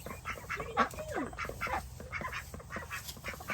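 Ducks in a new farm pen give a few scattered quacks and honking calls at moderate distance over low background noise.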